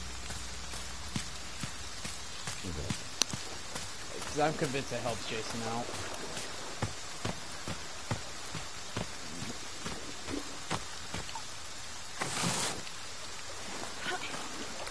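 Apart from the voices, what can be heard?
rain in video game Friday the 13th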